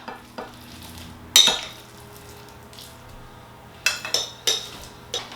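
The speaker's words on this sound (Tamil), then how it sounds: "நல்லா இதையும் டேட்ஸையும் மிக்ஸ் பண்ணி விடுங்க." Soaked dates and tea extract mixed by hand in a bowl for a Sri Lankan date cake, heard as a low steady stirring rustle broken by several sharp wet clicks and squelches, close and fairly quiet, with no talking.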